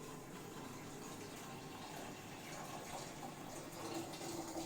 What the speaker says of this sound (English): Now I will be adding 2 to 3 glasses of water.